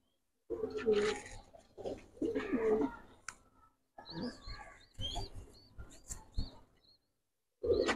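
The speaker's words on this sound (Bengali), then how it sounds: "যারা আসলে কবুতর ডাক পছন্দ করেন, যে কবুতর সারাদিন ডাকুক" Pigeons, a pair of Bagha Silver Mushaldom birds, give repeated close cooing bursts separated by short silences, the throaty rolling calls coming in about half a dozen distinct phrases.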